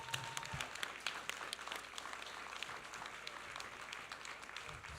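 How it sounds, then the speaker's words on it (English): A crowd applauds steadily for several seconds at a mayoral forum, a dense wash of clapping with a few sharper individual claps standing out, fairly distant and even. "let's hear a big round of applause for everybody"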